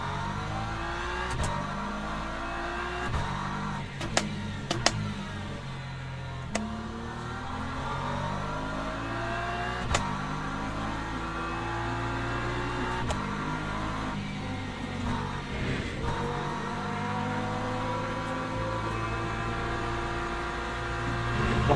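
LMP2 prototype race car engine in the racing game Le Mans Ultimate at Portimao, a loud continuous howl rising and falling through gear changes and revs for the whole stretch, with no talk.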